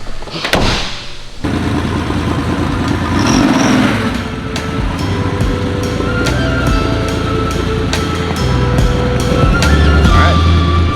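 A Porsche 964 runs on a dyno with a loud, continuous engine roar that rises and holds through several revs. Sharp mechanical clicks punctuate it, and there is a burst of noise at the very start.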